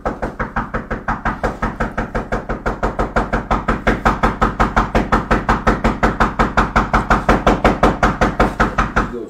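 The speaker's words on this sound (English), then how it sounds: "she knocking the shit out that door" Someone pounds hard on a door in a fast, relentless series of loud knocks, about four per second, continuing for several seconds with no pause.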